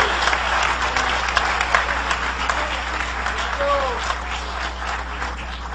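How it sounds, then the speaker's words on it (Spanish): Congregation applause at an evangelical church campaign, a steady, fairly loud spread of clapping over a low constant hum, with faint voices mixed in. "Dale un aplauso de poder al Señor Jesucristo."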